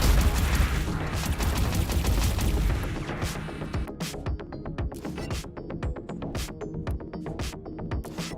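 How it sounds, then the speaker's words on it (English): Auto-firing missiles in the space-combat game Everspace 2 launch in a rapid, rhythmic volley of booms and crackles over a dense, loud rumble that thins into evenly spaced sharp bursts. "Auto-firing missiles, man."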